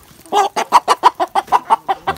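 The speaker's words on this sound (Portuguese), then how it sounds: "olha a galinha." Repeated clucks from a plump farm hen on a rural smallholding, about a dozen short rhythmic clucks in steady succession, close and clear with no talk over them.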